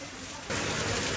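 Rain falls as a steady broadband hiss that suddenly grows heavier partway through, with no talking.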